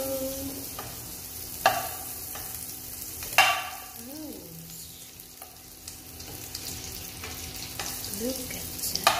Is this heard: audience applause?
no